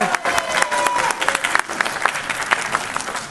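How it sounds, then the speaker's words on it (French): Sustained audience applause fills the hall, dense clapping at steady loudness with a few scattered cheers rising through it, close and continuous throughout. "que nous acclamons, que nous applaudissions."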